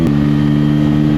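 A Bajaj Pulsar N160 motorcycle with a 164 cc single-cylinder engine, pulling hard in fourth gear past 100 km/h, gives a loud, steady high-revving drone with strong harmonics and wind rush, close up and continuous.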